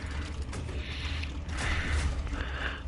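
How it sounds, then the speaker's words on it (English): Rough, worn vehicle engine in a video game, a steady mechanical grinding and creaking drone that runs throughout at moderate level, swelling slightly in the second half with no talk over it. "Listen to that engine."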